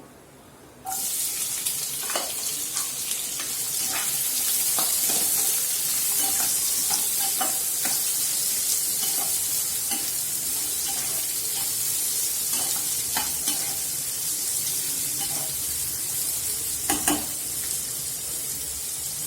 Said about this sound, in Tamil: வெங்காயம் நல்லா ஃப்ரை ஆகணும். கோல்டன் கலர் வர வரைக்கும் ஃப்ரை ஆகட்டும்.